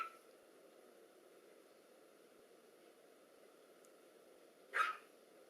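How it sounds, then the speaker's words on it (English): A single short bark from a young dog sounds off at a distance, brief and moderately loud against a steady quiet hiss in an indoor room. "That'll be the puppy."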